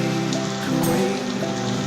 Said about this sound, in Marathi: पाऊस जोरात सुरू झालाय.